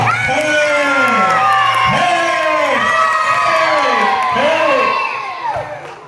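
A Christmas celebration audience erupts in loud, rhythmic cheering and shouting in repeated swells, with clapping buried under the voices before it tapers off at the end.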